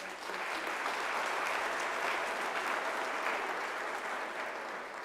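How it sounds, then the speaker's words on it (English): Graduation ceremony audience at UNISA clapping in a large hall, a steady, even wash of applause that holds for about five seconds before tapering slightly. "Can I request that we give a round of applause for that?"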